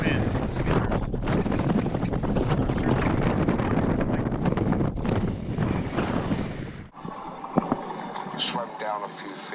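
Strong wind roars steadily and loudly across the microphone outdoors near Nassau, Bahamas, for about seven seconds, then drops away to quieter, choppier water and boat sounds.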